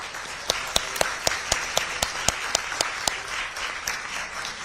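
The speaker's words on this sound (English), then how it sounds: "Shall we give him another warm round of applause?" An audience at an AmCham dialogue with Korean presidential candidate Lee Junseok applauds; distinct sharp claps ring out in a quick regular rhythm over a softer wash of clapping, fairly near and moderately loud.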